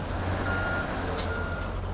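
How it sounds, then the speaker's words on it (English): Reversing beeps from a water-carrier truck in the SnowRunner video game, a steady faint beeping over a loud, constant engine rumble as the truck turns around; no talking. "Just going to turn this truck around."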